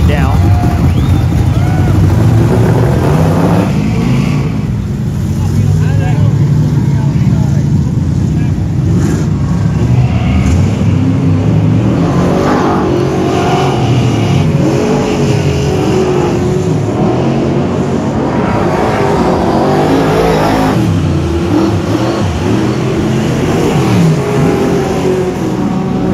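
Dirt-track late model race cars roar continuously through a hot lap at speed, engine drone rising and falling as they accelerate, heavily buffeted by wind noise on the microphone.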